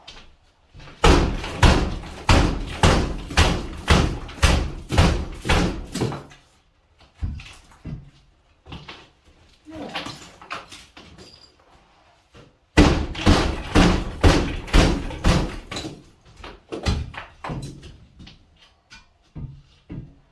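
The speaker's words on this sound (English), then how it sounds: "So usually I take this fork to knock off a bit." A garden fork knocking old plaster off wooden lath during demolition, a fast run of loud, evenly spaced impacts, then scattered knocks and crumbling, then another rapid burst of strikes.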